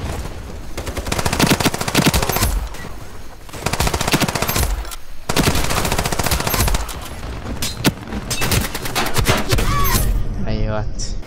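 A weak submachine gun in Ironsight fires in long rapid bursts, loud and close, with brief pauses between strings of shots while someone talks over the gunfire.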